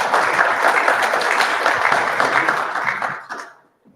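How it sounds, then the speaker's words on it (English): Conference audience at a blockchain developer event applauds speakers, a dense burst of many hands clapping in a hall that holds steady for about three seconds, then tapers off to a few last claps and silence. "Dino and Dimitri, give them a round of applause, please"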